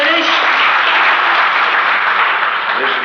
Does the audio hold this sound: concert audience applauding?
yes